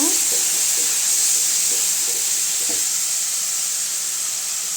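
Ginger garlic paste stirred into onions frying in a pan for an egg gravy, giving a steady, even hiss and sizzle that fills the whole stretch, with faint soft knocks of stirring beneath.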